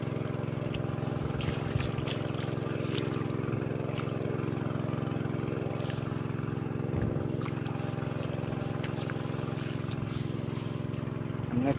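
A diesel irrigation pump engine drones steadily beside a rice paddy, a continuous close, loud mechanical hum with no break across the whole stretch.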